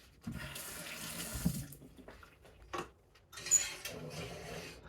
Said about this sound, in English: gotta put the water on.